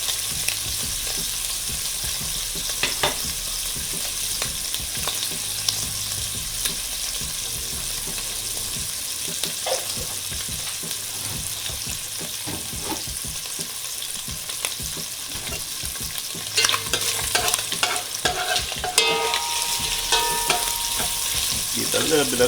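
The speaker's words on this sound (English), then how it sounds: "a little fry, lightly fried before I put the rest of the stuff in" Green onion, garlic, white onion and tomatoes fry in a pan for Jamaican cooking, giving a steady, close sizzle throughout, with stirring scrapes and a brighter burst of crackling near the end.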